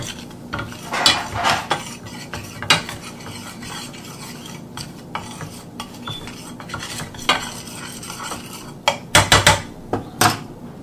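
Spoon scraping and stirring cornstarch in a pan for egg foo young, with irregular metallic clinks and scrapes, louder bursts near the end and a faint sizzle underneath.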